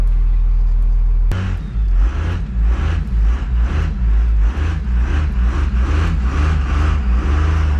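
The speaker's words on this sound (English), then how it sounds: "The engine's super strong in this truck though." A 2nd Gen Cummins diesel truck with a transmission in poor shape rumbles loudly as it drives, a deep pulsing engine note surging and easing in rhythmic bursts after a sudden start.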